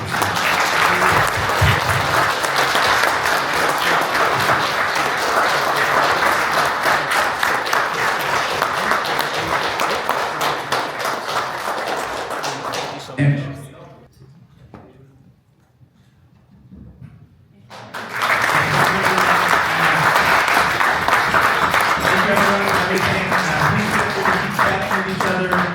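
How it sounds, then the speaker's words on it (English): Audience applause at the closing of the Toronto Democracy Forum 2025, a loud sustained clapping that fades briefly, then swells again into another long round of applause. "please have some applause."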